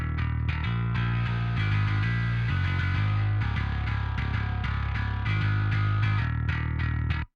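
Bass guitar runs through the Parallax plugin with its high drive distortion engaged, shaping a pop punk/emo tone: loud, gritty sustained notes with a thick, buzzing edge, played alone without any voice.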